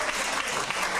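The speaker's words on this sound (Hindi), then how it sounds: "तालियां बजा रही है बढ़िया से" Women at a community gathering of women's groups clapping together, a brief burst of steady scattered applause heard at moderate distance with no talk over it.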